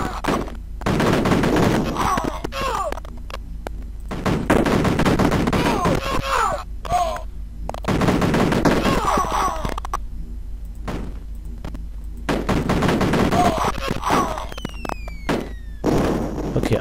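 Repeated bursts of sharp gunshots crack in clusters in the video game Cannon Fodder, with someone talking over and between the volleys.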